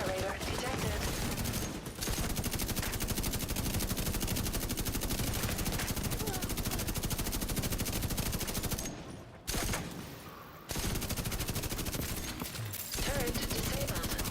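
Hostile turret machine-gun fire in a video game rattles in dense, continuous bursts, loud and close, with brief pauses near the end.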